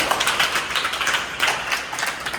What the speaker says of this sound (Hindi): तो एक बार इन सबके लिए तालियां बजा दें।